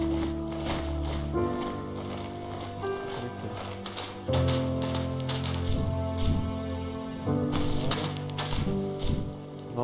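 Steady rain falls in a video game, a continuous patter under a layer of game music, with no voices at any point in the stretch.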